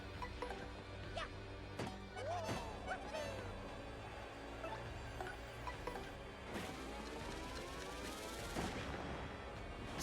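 Explosions in the video game Paper Mario: The Thousand-Year Door during the final Shadow Queen battle: a series of sharp booming blasts scattered over a steady bed of game sound, with a denser burst of impacts near the end.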